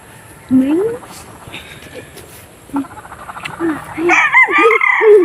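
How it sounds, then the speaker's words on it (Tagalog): Newly moved chicks on a range chirp and peep in short bursts, with a rooster-like call and clucking mixed in, moderately near, as a person talks at times. "meron tayong bagong lipat na mga sisiw ngayon"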